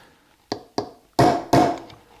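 Four sharp metal hammer strikes tapping out a bearing during a magneto overhaul, two lighter taps followed by two heavier ringing blows, each decaying quickly in a quiet space.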